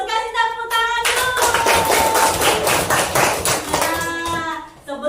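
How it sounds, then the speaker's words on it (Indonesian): Children in a primary school classroom clap their hands in a quick, steady burst that fills the middle of the moment, with a teacher's and children's voices heard just before and after. "Kasih tepuk tangan dulu."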